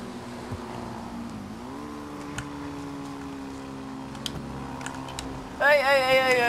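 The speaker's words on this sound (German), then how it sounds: "da kann ich mehr Gas geben" A motorcycle picks up speed on a bridge. A steady engine drone rises slightly in pitch, then a louder revving whine climbs sharply near the end, with faint clicks and ticks mixed in.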